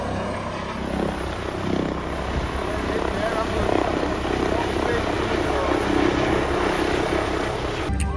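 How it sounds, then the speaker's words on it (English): A helicopter flies overhead at an outdoor tractor run, its steady rotor and engine roar filling the whole stretch, loud and continuous with slight swells as it passes. "Sounds like this helicopter's here"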